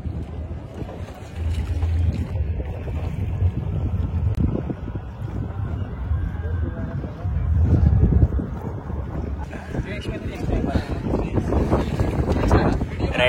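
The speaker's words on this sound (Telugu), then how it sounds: "త్రివేణి సంగమంలో బోటు ప్రయాణం చేస్తున్నాం కాబట్టి ఓకే." Motor boat ride at Triveni Sangam in Prayagraj, a continuous low engine drone with water wash and wind buffeting the microphone, steady and close throughout, with a few voices talking faintly in the background.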